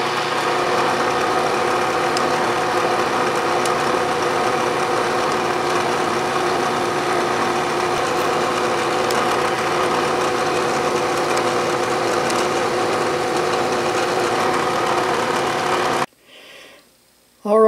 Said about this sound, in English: I'm drilling it on the Bridgeport mill